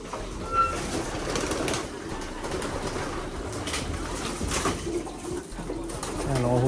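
Racing pigeons coo at close range, low murmuring calls over a steady outdoor background, with faint human voices in the mix.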